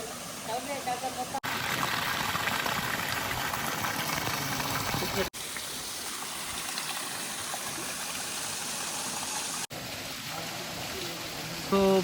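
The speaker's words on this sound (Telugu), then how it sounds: "పైనుంచి ఇట్లా స్టెప్పులు స్టెప్పులు వాటర్ పడుతుంది" Loud, constant rushing of water spilling over rock steps at the Bugga waterfall, a dense roar that continues without pause across several cuts.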